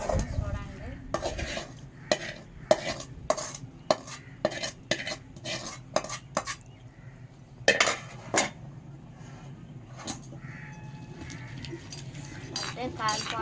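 A spoon repeatedly scrapes and clinks against a cooking pan while tomato pulp is stirred for a tamarind-leaf and peanut chutney, sharp irregular metallic strikes over a soft sizzle, with brief talking in between.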